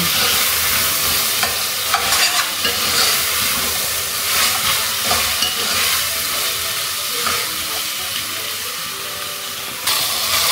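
Ginger and garlic sauté in hot oil in a pan, giving a loud, steady sizzle and hiss with occasional stirring scrapes, no voices.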